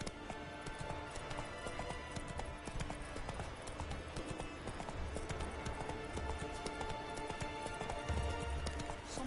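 Hooves of a horse galloping in The Witcher 3: Wild Hunt, a steady rapid clip-clop rhythm held throughout at a fairly low level, with faint game sounds beneath.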